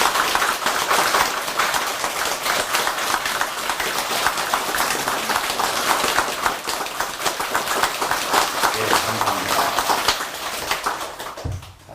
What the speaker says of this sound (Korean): 온 인류의 행복을 위해서 박수로 축원합니다.